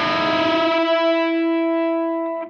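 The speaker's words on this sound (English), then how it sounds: "So what we're going to do is called a unison bend" A distorted electric guitar holds two notes that bend together into one sustained, buzzing pitch, ringing clearly before cutting off abruptly.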